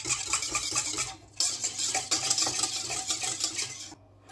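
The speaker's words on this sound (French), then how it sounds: "Et je mélange tout ça" A utensil stirs salted butter cookie dough in a bowl, scraping and clinking against the sides in a steady, close rhythm, with a brief pause partway through and a short stop near the end.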